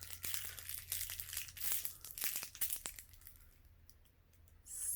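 Plastic and paper packaging of a Syncerity waxing kit being crinkled, torn and crushed by hand without scissors, a dense run of close crackling bursts that thins out, then a fresh crinkle near the end.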